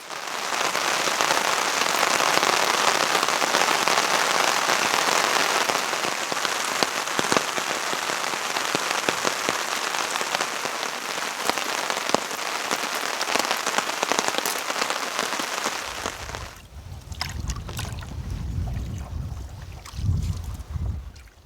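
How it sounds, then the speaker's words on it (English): Steady patter of rain drumming on a taut tent close by, continuous and fairly loud, then softening into scattered drops and low rumbling near the end. "So it only rained for maybe an hour this morning, hard."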